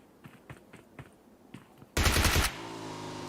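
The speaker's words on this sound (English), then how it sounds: "Oh, shots out from T2K. Shooting towards Paraboy." Automatic gunfire in the PUBG Mobile game: a loud, rapid burst of shots follows several fainter single reports, and a noisy tail rings on after it. No one talks.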